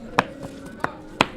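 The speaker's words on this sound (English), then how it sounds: "Women sit on the floor chopping cabbage" Women chopping cabbage on the floor of a community kitchen preparing free meals: three sharp, distinct knife chops against a board, evenly spaced, close and clear over a low room hum.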